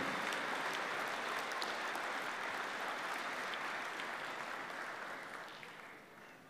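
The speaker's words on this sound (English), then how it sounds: "Can we please give a round of applause to make Te Atatū feel welcome?" An audience at a Tokelau Easter festival applauds to welcome a performing group, a steady crowd of clapping hands that holds for several seconds and then gradually fades away.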